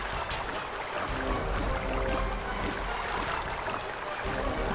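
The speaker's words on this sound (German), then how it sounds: "ist das Geräusch vom Wasser, wenn wir im Wasser laufen?" Water sloshes steadily as a character wades through a flooded sewer in the video game Might and Magic 9, a continuous splashing wash at moderate level with no voices.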